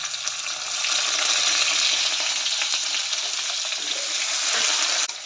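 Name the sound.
onion, tomato and okra sautéing in a kadhai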